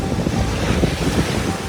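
Wind and waves on a beach at Koh Lipe, Thailand: close, blustery wind buffeting the microphone over a continuous wash of surf, loud and unbroken, with no one speaking.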